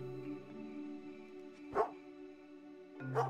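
Dog barking in the Viking action video game Sons of Valhalla, two short barks about a second and a half apart over a steady droning game music bed.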